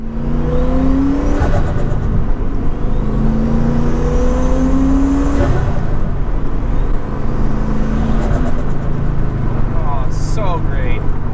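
A turbocharged 1986 Porsche 928S drives with a loud, continuous engine drone, rising and falling in pitch as it revs through the gears, with a whistling whoosh near the end and a voice talking over it.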